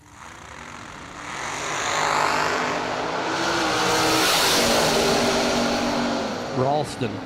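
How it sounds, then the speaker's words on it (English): Wingless American chassis dragster roaring at a drag strip, a loud sustained engine blast that swells and holds, with a commentator's voice running over it. "American chassis dragster."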